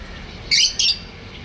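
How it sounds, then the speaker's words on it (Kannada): Two orange lovebirds in a cage give two quick, bright chirps in close succession, loud and near against a quiet background. "ಅದ್ರೊಳಗಡೆ ಎಷ್ಟು ಮುದ್ದಾಗಿ 2 ಆರೆಂಜ್ ಕಲರ್ದು ಲವ್ ಬರ್ಡ್ಸ್ ಕೂತ್ಕೊಂಡಿದೆ"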